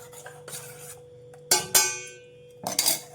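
A spoon mixing batter in a pot, scraping against the metal in a few short bursts with pauses between, close up.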